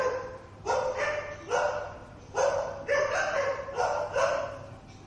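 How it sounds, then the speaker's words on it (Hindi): A dog sitting on a mattress inside a hospital emergency room barks repeatedly, six loud, evenly spaced barks with short pauses between them over a steady low background hum. "कुत्ता इमरजेंसी में गद्दे पर आराम से बैठा हुआ भौंक रहा था"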